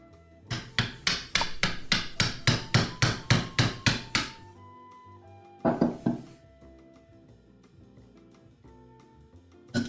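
A hammer or mallet pounds wood while Japanese joinery is cut for sawhorses: a fast run of about fifteen evenly spaced, loud strikes, a pause, then a few more blows with ringing tails.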